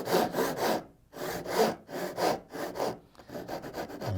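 A hand saw rasps through wood cutting a dovetail joint in steady back-and-forth strokes, about eight rhythmic pulls with brief pauses between them, close and clear.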